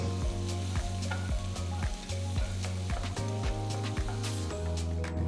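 Roughly chopped onions sauté in a pan with a steady frying hiss, heard under loud rhythmic music with a strong repeating beat.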